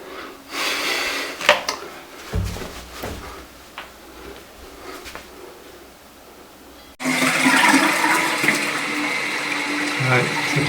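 A toilet cistern with a broken plastic inlet valve keeps filling, first a quieter trickle with clunks and handling noises, then a loud, steady rush of running water into the tank.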